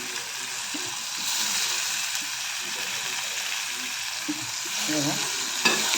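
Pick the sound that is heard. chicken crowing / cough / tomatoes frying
tomatoes frying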